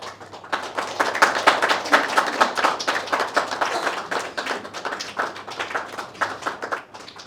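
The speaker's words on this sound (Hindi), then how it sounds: "तो जल्द जोरदार तालियों के साथ भाई स्वागत किया जाए हमारे फैकल्टीज का" Audience clapping loudly and rhythmically to welcome faculty on stage at a toppers' celebration event, a steady run of close, distinct hand claps lasting about seven seconds.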